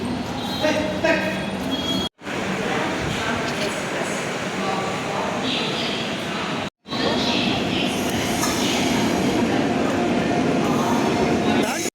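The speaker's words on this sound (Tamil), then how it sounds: "ட்ரெயின் வந்துடுச்சு நம்ம உள்ளே ஏறி உக்காந்தாச்சு" A Charminar Express train arrives at the platform, a loud continuous rumble of rolling wheels and rail noise filling the station with a couple of brief gaps, while people talk over it.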